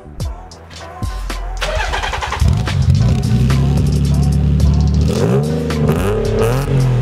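A Nissan 300ZX cranks and fires up close by, catching after a couple of seconds, then settles into a steady idle before a few rising revs near the end.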